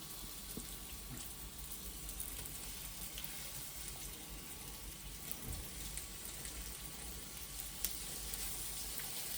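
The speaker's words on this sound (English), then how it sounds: "we're just gonna fry off the fish" Pieces of rui fish sizzle in a frying pan, a soft, even hiss of oil crackling steadily throughout with one small pop near the end.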